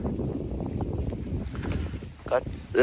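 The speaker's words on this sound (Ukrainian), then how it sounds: "Вибачайте за вітер." Wind buffeting a microphone outdoors in a cornfield in a steady low rumble, with people talking throughout.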